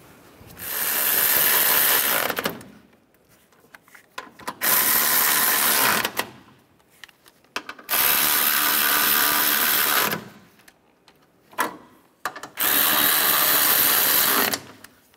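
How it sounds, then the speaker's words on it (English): Ratchet tightening the radiator bracket bolts on a 2011-2015 Chevrolet Cruze, four long bursts of rapid clicking separated by short pauses, close and loud with no voices. "Put these in before we tighten all those bolts down."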